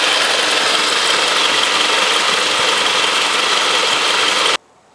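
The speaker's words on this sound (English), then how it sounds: "by placing the bypass wire ends on these 2 electrical contacts, which were the correct combination, the clutch is now turning" A car engine idles steadily and loud up close with its AC compressor clutch engaged and turning, a constant dense whir that cuts off abruptly near the end.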